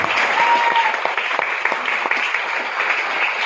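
Audience applause at a seminar-style event, a dense steady clatter of many hands clapping that runs the full length at strong, even volume without pause, with no talk over it.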